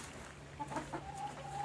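A chicken on a ranch clucks softly a few times at the moment of being caught for mite dusting, short faint calls over low background noise.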